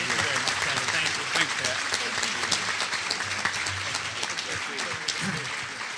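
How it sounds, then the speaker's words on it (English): A conference audience applauds Senator Brownback, steady dense clapping filling the room and holding loud and even throughout the six seconds, with no talk over it. "Let's all give him again a round of applause for his terrific leadership on this."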